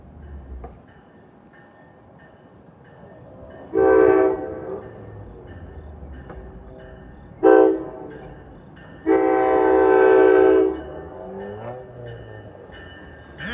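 A New Jersey Transit diesel passenger train of multi-level cars rumbles closer while its horn sounds in three blasts, two short and one long, loud and near.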